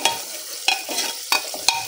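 Green chili and spices frying over a low flame and stirred in a pan give a soft sizzle broken by four scraping strokes of the spoon, close by, with no voices.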